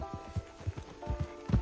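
In the video game Red Dead Redemption 2, a horse's hooves clip-clop at a steady walking pace, soft and fairly close. Each hoof fall is a dull knock, with a low hum behind them.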